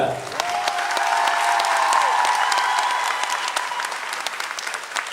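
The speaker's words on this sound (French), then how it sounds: "on peut déjà applaudir nos 26 candidates de ce soir" A pageant crowd at the opening of the Mademoiselle Centre 2017 show applauds steadily for five seconds, a dense, loud wash of clapping with light cheering and a sustained tone beneath.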